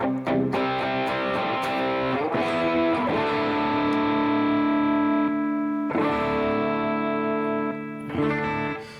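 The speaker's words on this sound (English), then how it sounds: "the combination of these two pedals is amazing. Two overdrives, and it gives me this distortion" Electric guitar played through two stacked overdrive pedals, giving thick distorted chords that ring out and sustain, struck again several times, loud and close with no talking.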